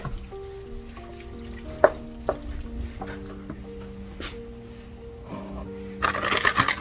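Chili with bell pepper and turkey sizzles softly in a pan as a spoon stirs and clinks against it, with a louder burst of frying near the end.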